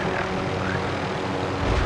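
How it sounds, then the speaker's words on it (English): A helicopter flying in the Call of Duty: Modern Warfare video game, a steady loud rotor-and-engine drone that fills the whole clip with no talking over it. "Oh, you came in the helicopter."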